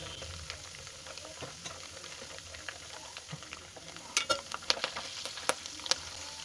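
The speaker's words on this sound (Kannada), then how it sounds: "ನೋಡಿ ಆ ಥರ ಸೌಂಡ್ ಬರಬೇಕು ಇವಾಗ ತುಪ್ಪ ಕರೆಕ್ಟಾಗಿ ಕಾದಿದೆ ಅಂತ" Ghee from homemade butter of packet milk heating in a pan on a stove, crackling and sizzling steadily, with sharp, denser pops bursting out over the last two seconds; no talking.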